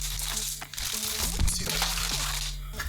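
Plastic packaging crinkles and crackles close up as a boxed Logitech MK825 wireless keyboard is unwrapped, with a continuous busy rustle and a few sharper crunches.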